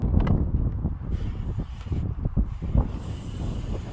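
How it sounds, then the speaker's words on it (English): Wind buffets the microphone at a skatepark in uneven low-frequency gusts and rumbles, with a few faint knocks mixed in and no clear speech. "Sorry if it's so windy."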